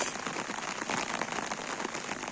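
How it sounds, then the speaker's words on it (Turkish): Steady rain falling on a garden being prepared for planting, a continuous close hiss of drops on surfaces with no voices. "Yağmur çok güzel başladı."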